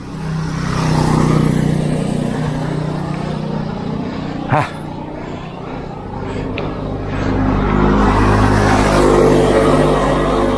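Vehicles pass on a road near a river crossing in Barangay Armenia, Tarlac City, a continuous engine rumble that swells and fades, with a louder approach near the end, under someone speaking.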